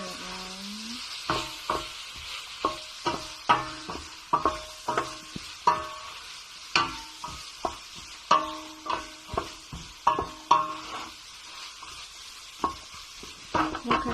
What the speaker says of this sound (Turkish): Biraz karıştırıyorum.